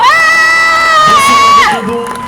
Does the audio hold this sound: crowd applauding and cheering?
yes